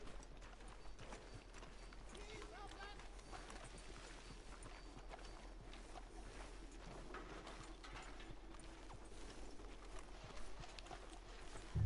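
Horse hooves clip-clop steadily in Red Dead Redemption 2, a faint, continuous walking rhythm at low level with no one talking over it.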